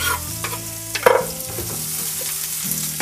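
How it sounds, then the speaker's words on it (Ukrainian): Onion frying in a pan, a soft steady sizzle with a brief clatter of stirring near the middle, close and moderately loud with no speech. "поки буде підсмажуватися цибуля"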